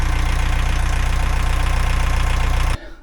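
A narrowboat engine, warmed through, idles with a steady low chugging rhythm, close and loud, cutting off abruptly at the end.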